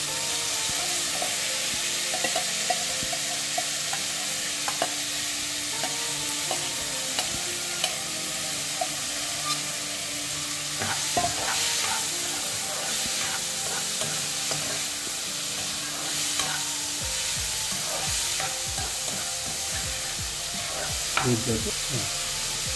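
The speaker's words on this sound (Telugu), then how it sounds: "ఇప్పుడు పోపు వేగిపోయింది కదా, దీంట్లోకి మనం బీట్రూట్ ముక్కల్ని యాడ్ చేద్దాం." Beetroot pieces fry in hot oil with tempering, a loud continuous sizzle and hiss with repeated stirring scrapes and occasional spatula knocks against the pan, no talking.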